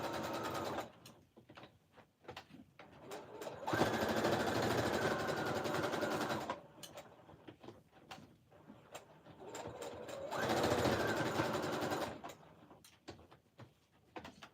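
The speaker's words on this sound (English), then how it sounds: "We're gonna whip on over and sew the outside part down and leave it ruffly." A sewing machine stitches down the outer edge of a tattered quilt, its motor running in two long steady bursts separated by shorter stop-start runs and pauses, close and fairly loud with no talking.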